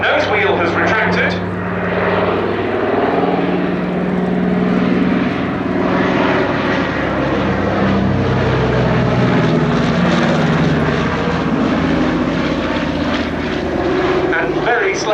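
Steady drone of a Consolidated Catalina flying boat's twin piston engines as it flies past at an airshow, loud and continuous throughout, with a commentator talking over it.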